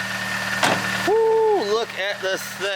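A turbocharged BMW M43 four-cylinder car engine idles at the start of a test drive, a low steady hum sitting beneath excited voices talking close by.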